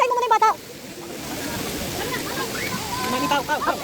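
River water rushing steadily as a family wades across, a broad continuous flow with children and adults talking and calling out over it.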